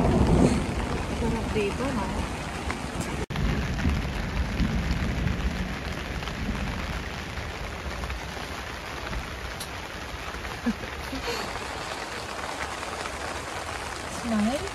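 Steady rain pattering down over a campsite at Wapiti in Jasper, Canada, a dense close hiss that fills the whole stretch, with a short voice near the start.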